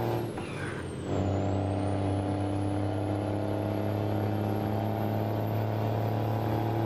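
A truck engine in American Truck Simulator drones as a steady low hum that shifts after a brief dip, then holds a constant loud rumble with a faint high whine above it.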